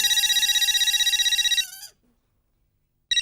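A phone rings with a rapid trilling electronic tone for over a second, then cuts off into silence before a brief burst of ringing resumes.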